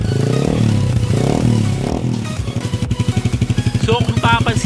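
A Suzuki Gixxer FI motorcycle fitted with an aftermarket exhaust idles with a loud, steady pulsing putter after a stretch of talk, the exhaust beat rising briefly near the end.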